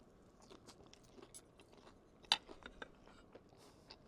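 Someone bites into a crispy ciabatta sandwich with BBQ Dijon chicken, lettuce and honey mayo, a soft close crunch followed by quiet chewing sounds.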